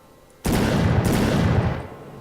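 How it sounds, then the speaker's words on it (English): Video game hand cannon firing, one sudden loud blast that sustains a dense roar for over a second before tapering off, with a second crack layered in partway through. "Hand cannon looks nice and easy."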